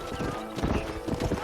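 Quick, close hoofbeats pound in a galloping rhythm while a horse whinnies briefly over game background music in Red Dead Redemption.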